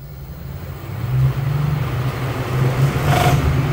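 An evaporator fan motor with a damaged blade, a loud, close, low droning whir with a rough, uneven wobble that swells slightly as it runs and rattles the unit, with no speech.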